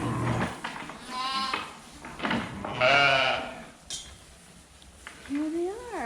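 Black and white Holstein sheep bleat on a spring farm, with several wavering calls near and farther off over a busy background and a faint clink, while a person talks quietly in between.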